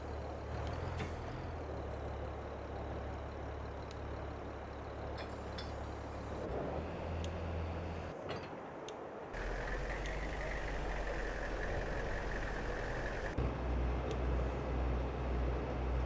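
A tractor in Farming Simulator 22 idles and revs with a steady low diesel drone, punctuated by hissing, air-brake-like releases and shifts in engine tone, fairly quiet overall.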